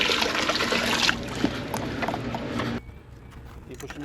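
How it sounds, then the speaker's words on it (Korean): Seawater sloshing and trickling as a rope bucket is filled at a fishing spot, with a tripod set up nearby; splashy, gurgling water and clanking handling noise up close, then dropping to a quieter background with occasional small knocks. "바닷물을 조금만 담을게요."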